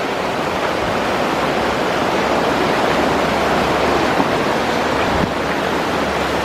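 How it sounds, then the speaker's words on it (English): Floodwater from the Skookumchuck River surging around a house in Centralia, Washington, a constant heavy roaring rush like a torrent, close and loud, with no voices. "All the water is avoiding his house and going around."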